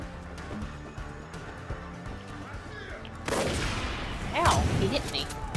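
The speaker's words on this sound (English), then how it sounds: "Get that assault rifle out." Assault rifle gunfire in the Far Cry 5 video game erupts in loud bursts of shots during co-op play, following a quieter stretch of scattered game sounds.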